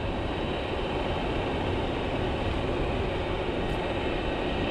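A Dualtron Spider electric scooter climbs an incline at full throttle, giving a steady broadband rush of motor whine, wind and road noise, even and continuous with no talking.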